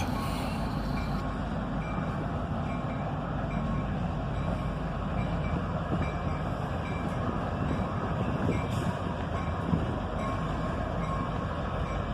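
A CSX local freight train pulls back up slowly, a steady rumbling roll of heavy cars and locomotive with faint metallic squeals and brief high tones, continuous and moderately close, with no talk.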